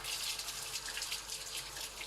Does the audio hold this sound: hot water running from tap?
yes